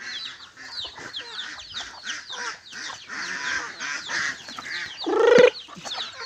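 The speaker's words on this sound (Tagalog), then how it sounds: "Ang daming sisiw" Chicks and hens on a small backyard poultry farm cluck and cheep continuously, a busy overlapping chatter with one louder, close squawk near the end.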